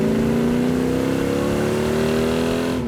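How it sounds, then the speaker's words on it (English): A Hemi V8 car engine with dual quad carburetors roars steadily and close, its pitch climbing slowly as it revs, loud and continuous with no voices. "That is one snarler of an engine."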